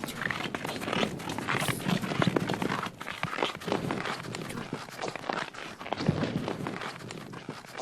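Horse hooves clop and thud over uneven ground in rural Mongolia, a steady irregular walking rhythm heard up close amid rustling outdoor ambience.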